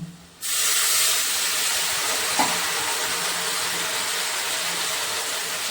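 Water poured into a hot pan with cumin powder sets off a sudden loud steaming hiss that starts abruptly and holds steady, near and continuous, with no voices.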